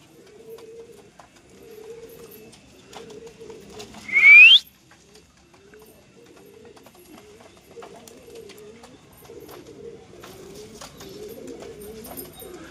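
Domestic pigeons coo softly and repeatedly in a rhythmic, low murmur around a loft on a sunny day, with a sharp whistle-like squeal briefly cutting in and faint background sounds.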